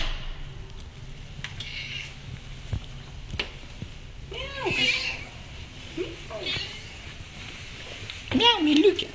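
A cat meows a few times close by, with short rising-and-falling cries spaced over a few seconds against a quiet indoor background.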